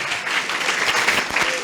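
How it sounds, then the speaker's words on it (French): Loud audience applause after a talk on youth sexuality and health, a dense steady wash of many hands clapping for the full short stretch with no pauses. "Un tonnerre d'applaudissements pour Madame Noguette,"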